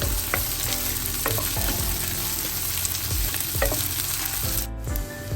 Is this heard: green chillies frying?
yes